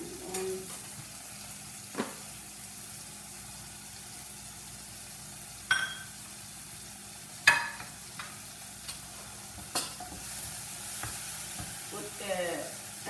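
Tomato sautés quietly in a pan, a low background sizzle broken by scattered sharp clinks and scrapes of a utensil against the pan.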